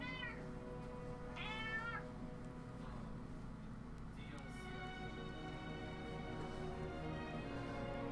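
A jealous pet cat meows twice in short rising calls, close but fairly soft, over a constant low electronic hum, with some talking in the background.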